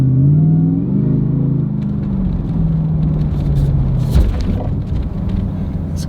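A 2024 Ford Raptor R with a supercharged V8 cruises along, its steady engine drone and faint supercharger whine carrying under road rumble, with a brief surge partway through.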